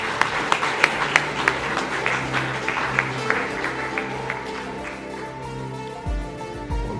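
A crowd applauds steadily, with sharp individual claps standing out early before the clapping gradually thins and fades.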